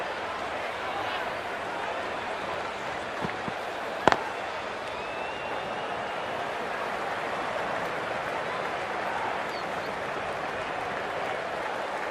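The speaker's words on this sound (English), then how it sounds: "The crowd is electric right now." A cricket stadium crowd cheers in a constant, distant wash of roaring and clapping that lasts throughout. A single sharp crack cuts through it near the middle.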